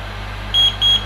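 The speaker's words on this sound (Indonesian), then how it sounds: "Nah, ada bip bip bip." Two short, high-pitched beeps from a home hair removal device as it switches to continuous mode, clear and close over a steady low hum.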